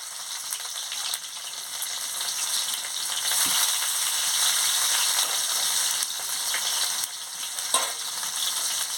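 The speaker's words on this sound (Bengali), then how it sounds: "তেল গরম হয়ে গেছে, আমি পেঁয়াজ কুচিটা দিয়ে দিচ্ছি।" Chopped onion fries in hot oil in a home kitchen, giving a steady, close hiss of sizzling with occasional scrapes and clicks of stirring.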